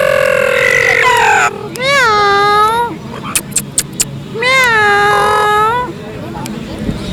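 A cockatoo in a bird market mimics a cat with two long, drawn-out meows, separated by a few sharp clicks or squawks, close and loud over a steady background murmur.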